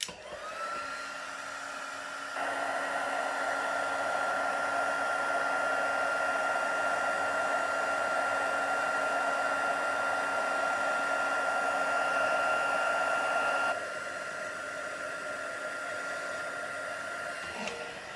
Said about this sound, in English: And then we'll heat emboss this again.